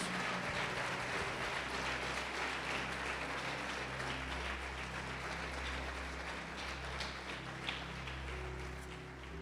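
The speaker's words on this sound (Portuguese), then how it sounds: "Pode aplaudir, glorificar a Deus" A church congregation applauds in worship with a steady, dense wash of clapping that holds for the whole stretch, close and full, over a low constant hum.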